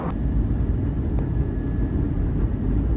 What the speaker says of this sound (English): Down we come into London Heathrow today.